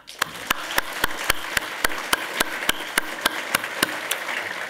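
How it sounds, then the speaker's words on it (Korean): Church congregation applause with sharp, evenly spaced claps standing out over a steady wash of clapping, moderately loud and continuous throughout. "예배위원들에게 감사의 박수를 하나님께 올려드리겠습니다"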